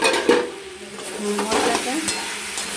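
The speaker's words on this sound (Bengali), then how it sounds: "আমরা দিয়ে দেব আদা বাটা, জিরের গুঁড়ো, ধনের গুঁড়ো দিয়ে এটাকে কিছুক্ষণ কষে নেব" Ginger paste with cumin and coriander powder frying in a pan for a homestyle mixed vegetable ghyat, stirred with a spoon: close sizzling under quick scraping and clinking strokes against the metal pot.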